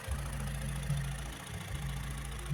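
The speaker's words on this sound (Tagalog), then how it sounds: "Ito marinig po ninyo yung makina." A car engine idles quietly and steadily under the open hood with a low continuous hum, with no talk.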